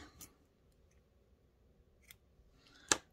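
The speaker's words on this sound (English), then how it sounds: "And then we're going to cut our yarn." Scissors snip through yarn after a small crocheted mini stocking is finished, with two soft snips and one sharp final cut, close and clear in a quiet room.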